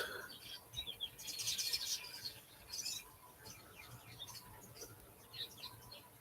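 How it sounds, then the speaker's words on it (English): Faint birds chirp in short bursts against a quiet outdoor background, busiest early on and then scattered, distant tweets. "I love the sound of these birds."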